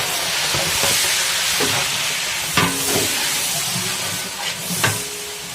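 Two kilograms of tomatoes fry in a large biryani pot for a 25 kg chicken biryani, a loud steady hiss of sizzling broken by several scraping, clanking stirs near the pot.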